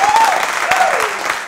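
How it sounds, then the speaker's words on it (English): Quiz show studio audience bursts into a short, loud round of applause for a contestant, with a voice over the clapping. "give him a round of applause."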